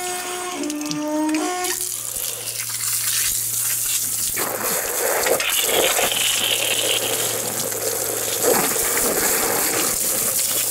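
Cold water pours from a bucket over a person in a wetsuit, a loud, sustained gush and splash lasting several seconds. Brief tonal sounds come just before it.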